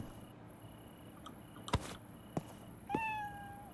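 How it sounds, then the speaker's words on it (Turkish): A cat in the Internet Cafe Simulator 2 video game meows once, a clear rising-then-falling call near the end after a few sharp clicks, fairly quiet overall. "Kedi miyavlaması"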